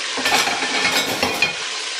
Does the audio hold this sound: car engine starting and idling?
no